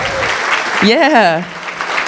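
Applause rolls through the crowd at a business forecast breakfast, steady and fairly loud, while a voice calls out a drawn-out exclamation over the clapping partway through.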